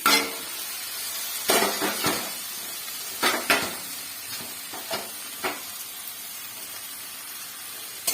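Vegetables fry in a pan for semolina upma, a soft steady sizzle broken by a few sharp scrapes and knocks of a spatula against the pan, no talking.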